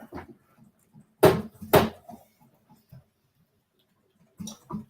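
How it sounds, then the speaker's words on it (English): A Seeburg 1000 background-music machine has its door pulled open, giving two loud, close knocking clunks in quick succession, followed by a few small rattles and another pair of softer knocks near the end. "if we get the door open here"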